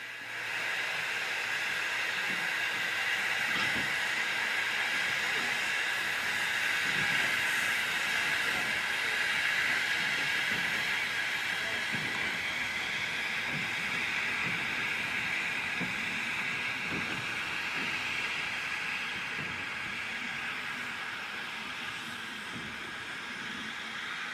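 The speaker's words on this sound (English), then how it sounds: "the train is restarted in order to join the main line" A mixed goods train pulls away from Swithland sidings to join the main line, a steady hiss and rumble of wagons rolling with faint rhythmic clanks, moderately distant and unbroken by voices.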